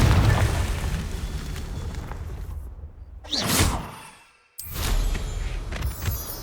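A Confringo fire spell explodes in the Hogwarts Legacy game with a rushing whoosh and a deep boom, then brief near-silence before a second loud blast and rumbling that fades out.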